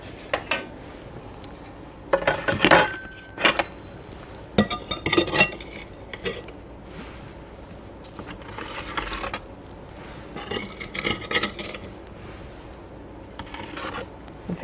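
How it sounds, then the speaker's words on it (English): Shamrock-shaped sugar cookie dough pieces are set onto a metal baking pan with a spatula, giving scattered clinks, scrapes and light metallic taps in short bursts separated by quiet pauses. "let's get those onto the pan"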